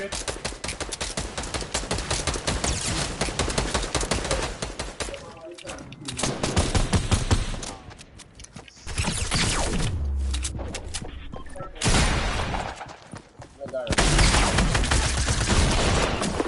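Rapid bursts of gunfire, dense and loud throughout, with brief pauses and a few quieter gaps between volleys.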